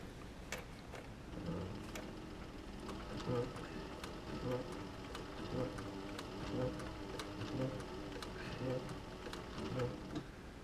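A sewing machine stitches leather for a bucket tote bag, giving a steady rhythmic mechanical clatter of quick repeated stitches at close range, fairly quiet, with a voice talking faintly at times.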